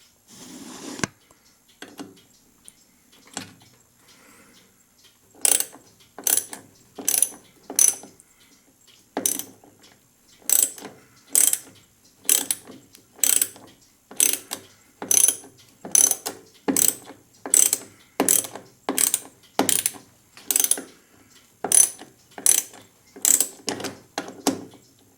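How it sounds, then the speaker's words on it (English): Ratchet mechanism being worked on a chair, a dense series of sharp metallic clicking bursts in a steady, repeated rhythm, close and loud, after a few scattered softer clicks at the start. "let's try the ratchet"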